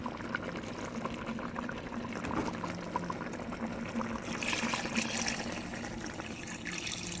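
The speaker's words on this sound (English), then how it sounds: "I will now add my water." Water pours steadily into a pot of chicken and lamb for Bajan pelau, several seconds of continuous splashing rush that brightens and grows a little louder near the end, heard close up.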